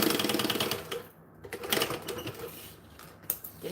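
A sewing machine stitches a seam back on, with a rapid, rattling run of needle strokes at first, then intermittent bursts and clicks as the stitching pauses and restarts.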